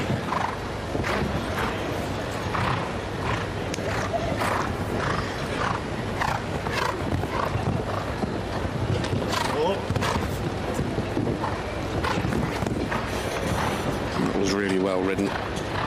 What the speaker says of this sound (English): Giving the horse a chance to jump these fences when he gets to them.